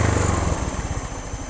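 A Honda fuel-injected motorcycle engine runs steadily and loudly up close, its throbbing pulse smooth and even without stumbling as the throttle is held.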